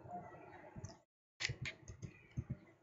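Light clicking of keys typed on a laptop keyboard, a few quick, faint taps in an irregular rhythm with a short silent gap, heard close and quiet.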